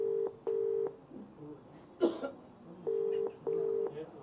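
A phone call goes unanswered: repeated steady ringback tones sound in two pairs, separated by a short burst of handling noise and faint background murmur, with no pickup.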